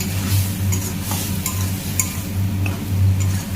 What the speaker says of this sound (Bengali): এবার এর মধ্যে দিয়ে একটু কষিয়ে নিই